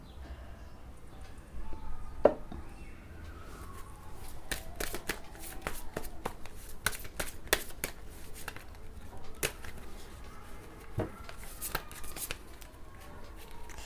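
Oracle cards are shuffled by hand in a quick series of crisp riffling flicks and slaps, close and fairly quiet, with no speech.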